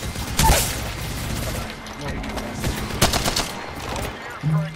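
Gunfire in Apex Legends from a knocked-down player still shooting, with bursts of rapid shots and sharp reports spread through the moment, while players talk over the action.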